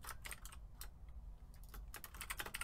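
Computer keyboard typing during a Minecraft Mega Walls match, rapid irregular clacking keystrokes in quick bursts, close and fairly quiet, with no talking.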